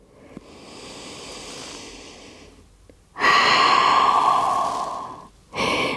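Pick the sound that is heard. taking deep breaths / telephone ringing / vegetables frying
taking deep breaths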